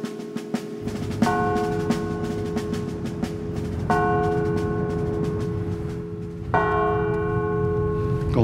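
Carillon bells ring from a church bell tower, with three strong struck chords near 1.2, 3.9 and 6.5 seconds, each ringing out with long sustained overtones over a continuous humming low drone.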